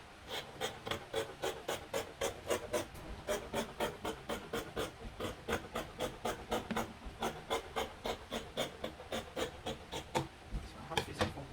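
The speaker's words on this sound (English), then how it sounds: "I'll go ahead and cut my facing." Fabric facing being cut for a sewn bubu garment, heard as a steady, fast, even run of rasping cutting strokes, close and unbroken by talk.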